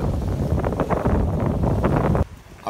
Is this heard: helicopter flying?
no